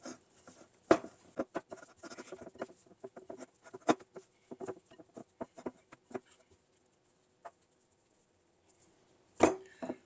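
Hands working bread dough in a bowl, made from scratch, giving soft irregular slaps, squishes and taps in bursts, close and fairly quiet, with pauses between and a louder cluster near the end.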